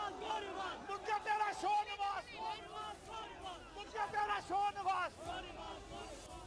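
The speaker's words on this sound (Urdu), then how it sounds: "دیکھیے کہ سپریم کورٹ کے باہر کیا نعرے لگ رہے ہیں، سناتے ہیں آپ کو۔" A crowd chants slogans outside the Supreme Court on the day of the Panama case verdict; rhythmic massed voices rise and fall in repeated phrases, distant and slightly muffled, under a general street hubbub.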